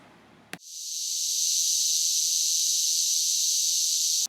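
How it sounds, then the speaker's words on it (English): Adult cicada mating call: a loud, continuous, high-pitched buzzing drone that starts abruptly after a brief click and holds steady and close, with no talk. "They create a lot of noise when they become an adult cicada, using the sound as a mating call."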